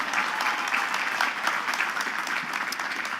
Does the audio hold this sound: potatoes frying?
no